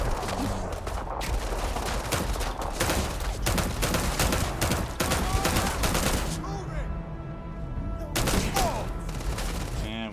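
A scoped gun fired repeatedly in Starfield, with close, punchy shots in quick succession, a brief pause, then a final burst, with game sounds and some speech mixed in.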